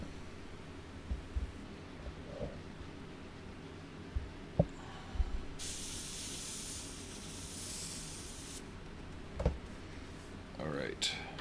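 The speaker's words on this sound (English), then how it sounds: "the airbrush is performing well today" Airbrush spraying paint onto an M978 fuel truck model, a soft hiss bursting up for a few seconds in the middle amid quiet workshop clicks and handling noises.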